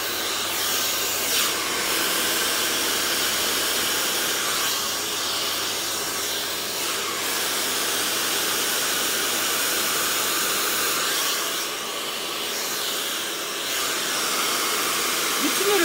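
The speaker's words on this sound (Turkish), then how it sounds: "Şimdi fönlüyorum." A hair dryer blows on hair after a keratin treatment, making a loud steady whoosh with no pause and slight shifts as the airflow moves.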